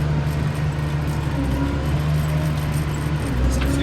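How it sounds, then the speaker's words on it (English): A 1999 Case IH MX270 tractor drives forward and accelerates through its gears, with a steady, loud diesel engine drone and low hum running the whole time, heard from up close. "Accelerate through the gears."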